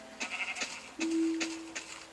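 Sheep bleating in Minecraft, a few short bleats followed by one longer drawn-out bleat, fairly close and clear with no talk over them.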